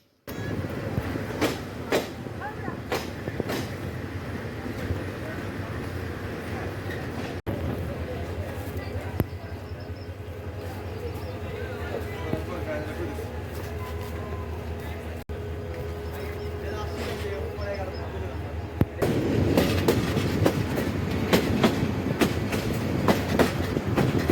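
The Kishoreganj Express rolls into Bajitpur railway station with rhythmic clickety-clack of wheels and rumbling carriages, joined by passing bursts and louder clatter near the end, while people talk over the train noise.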